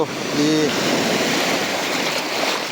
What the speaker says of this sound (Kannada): ಈ ಕಡಲ ತೀರ, ಈ ನೊರೆ, ಈ ಸಮುದ್ರ, ಇದು ವಿಶೇಷ ಸಮುದ್ರ.